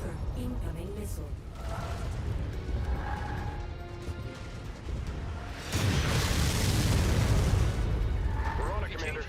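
Missile explosions in the mech combat game MechWarrior 5 boom in a sustained loud burst midway, set against continuous battle rumble and radio voice chatter.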